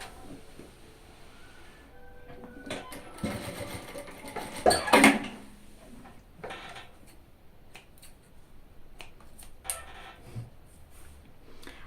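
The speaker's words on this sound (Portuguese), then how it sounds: "E vou passar uma costura de segurança também." A sewing machine runs a safety seam across the strap of a fabric lunch bag, giving a close rattling stitch burst in the middle of quieter handling clicks and shuffles, with no talking.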